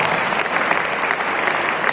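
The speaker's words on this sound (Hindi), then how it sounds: "वाह, तालियां बजाते हैं।" An audience claps steadily and densely at a World Hindi Day poetry recital, a full, even roar of hands that stays loud and unbroken from start to finish with no talking.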